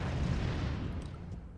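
Explosive crate blowing up in Ratchet and Clank 2, a broad low rumbling blast that stays loud and sustained through the short moment, with no voices.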